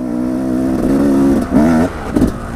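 A cold 2016 Husqvarna 300 TE two-stroke enduro motorcycle idles steadily up close, then is blipped twice in short revs that rise and fall back to idle.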